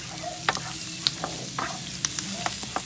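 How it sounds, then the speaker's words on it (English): Paella ingredients, including pork and cherry tomatoes, stirred in a pan on a stovetop: steady frying sizzle broken by sharp scrapes and clinks of the utensil against the pan, close up. "Now just stir it around."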